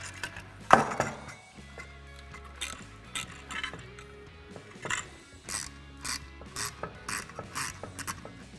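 Hose clamps are tightened onto an in-tank EFI fuel pump for an LS swap, heard as a series of close, quiet ratcheting clicks and small metallic mechanism sounds in short bursts.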